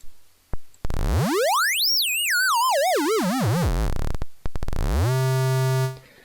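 Electronic tones from an op-amp comparator square-wave circuit: a steady buzz, then a wobbling tone sweeping up and warbling back down, then a brief click and a sustained flat tone, loud and alone.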